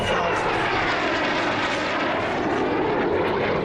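Impala jet trainer aircraft powered by a Rolls-Royce Viper 20 Mark 540 turbojet, a steady, loud, broadband engine roar and whine holding constant throughout with no talk.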